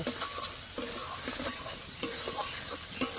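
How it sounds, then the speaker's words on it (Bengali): Spice paste with chili powder fries and is stirred in a pan for a Bengali fish curry, a soft steady sizzle broken by regular scraping strokes of a spatula against the pan. "এবার দিয়ে দেবো লঙ্কার গুঁড়ো, আবারও বেশ কিছুক্ষণ কষে নেব।"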